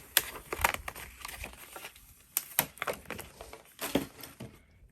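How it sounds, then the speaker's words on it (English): Close, quiet crinkles and soft tearing rustles come in several short bursts with pauses as a paper sticker is peeled up from its backing. "Then we'll peel this up."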